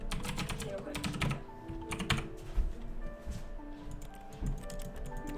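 Keyboard typing in the video game The Stanley Parable, a brisk, uneven clatter of key taps that come in short bursts, with some low background sound.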